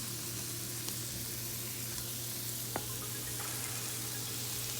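Steak frying in a wok with honey and cooking oil, a steady close sizzle and crackle running throughout with a few small pops, no talking over it.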